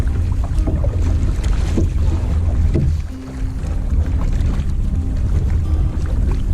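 A canoe pushes through choppy waves on Pickerel Bay, French River, with steady wind rumbling across the microphone and a brief lull midway.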